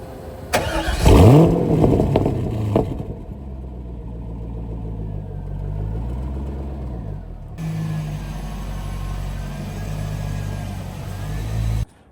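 A car engine cranks and catches with a loud starting burst, then idles and rumbles steadily as the car is driven slowly inside after a wash, cutting off abruptly at the end.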